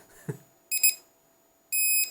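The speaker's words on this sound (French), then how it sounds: "Donc là, la radio bip sans arrêt." An SJRC S20W drone remote controller beeps in short, bright, high-pitched electronic bursts, one brief beep followed by a longer tone, close and clear with no talking.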